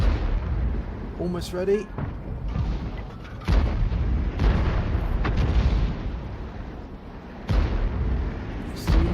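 T92 HMC self-propelled artillery in World of Tanks firing, with heavy booms and shell explosions recurring several times across the stretch, while a brief voice speaks over the battle noise.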